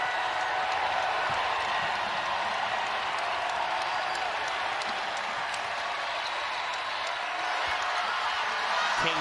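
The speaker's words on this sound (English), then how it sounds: "And now this crowd rises to its feet." A basketball arena crowd at a Big East semifinal rises to its feet and cheers, a dense, sustained roar of applause and voices filling the space, loud and constant throughout.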